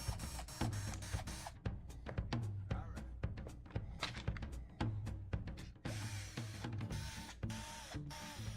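Matapa Power Max power tool backing screws out of a Ryobi R18DDBL brushless screwdriver gearbox, a busy run of sharp clicks and ratcheting thunks in quick irregular bursts, close and fairly quiet.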